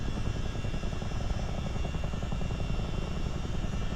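Steady, loud roar inside the cabin of a CH-47 Chinook helicopter in low-level flight, with a constant rotor and engine drone and no voices above the noise.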